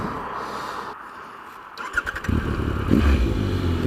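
A 2016 Triumph Tiger Explorer motorcycle engine rumbles close by, starting quietly and rising into a louder, steady idle and rev toward the end, with no talking.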